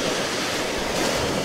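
Sea waves washing onto the beach at Dębki on the Polish Baltic coast, a steady broadband roar of surf with a constant, close wash and no talking.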